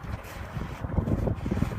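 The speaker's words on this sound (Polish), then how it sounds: "Jak co dzień wieje dosyć mocno" Strong wind at the Falun ski jump buffets the microphone in low, rumbling gusts that rise and fall continuously, with no voices.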